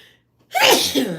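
One sharp, loud human sneeze bursts out after a brief near-silence and trails off with a short breathy tail, close to the microphone.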